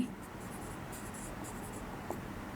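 A pen scratches steadily across paper while a physics vector math solution is written out, faint and close, in short repeated strokes with no talking.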